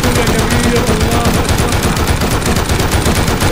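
Sustained rapid fire from an M2 heavy machine gun in a video game: a dense, loud stream of shots runs unbroken from start to finish, close and dominant.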